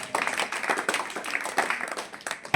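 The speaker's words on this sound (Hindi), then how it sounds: "भैया के लिए जोरदार ताली" A classroom audience claps for a student who scored 10 out of 10 at a weekly test results event, a brief burst of close, fairly loud hand claps.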